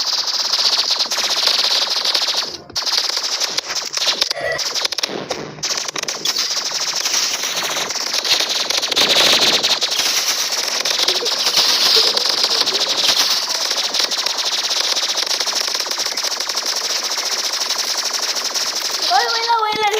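Rapid automatic gunfire rattles almost without pause through a Roblox Rivals match, loud and dense, with players chattering over it and a few brief breaks in the shooting.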